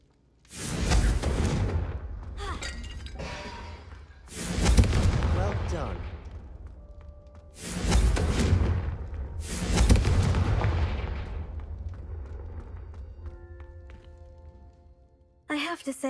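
Confringo spell blasts in Hogwarts Legacy, several loud booming fiery explosions spaced a few seconds apart, each with a long rumbling tail, up close.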